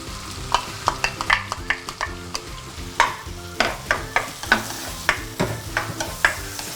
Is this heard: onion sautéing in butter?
yes